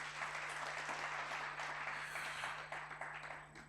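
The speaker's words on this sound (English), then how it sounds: "let's give them also another big round of applause" Conference audience applauding sponsors at a university library international conference, a steady wash of clapping at moderate distance that holds for several seconds before thinning toward the end, with a faint steady hum beneath.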